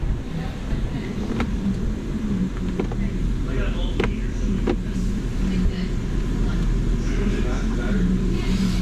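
A BMW 535 engine idles steadily with a continuous low rumble, loud and close, with a few faint clicks and metallic ticks over it while its transmission is being serviced.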